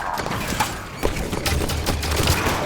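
Rapid gunfire from the video game Halo 5 crackles through a tense firefight, with dense bursts of shots and battle noise running continuously at a steady, fairly loud level.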